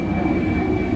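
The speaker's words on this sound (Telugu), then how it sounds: "ఫ్లైట్ కూడా వెళ్తుంది." An airplane flies over a park in Dubai, a loud, continuous engine roar with a steady whine above it during the brief moment.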